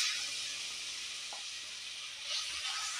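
Crushed garlic and ginger, ten cloves with a medium piece of ginger, sauté in hot oil in a pan for restaurant-style chilli chicken, giving a steady close hiss with a faint stir in the middle.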